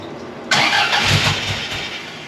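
A rebuilt Fiat 124 engine with a new exhaust cranks and catches, bursting into a loud, close running note that settles toward a rough idle.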